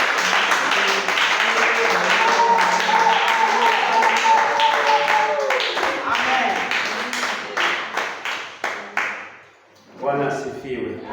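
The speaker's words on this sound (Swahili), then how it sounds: "Tukaweze kupiga makofi kwa ajili ya mtumishi wa Mungu" A church congregation claps their hands together as music plays, a dense sustained burst of clapping that thins into scattered claps before fading, followed by a voice speaking.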